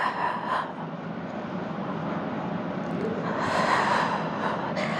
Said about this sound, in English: Big breath out for 5.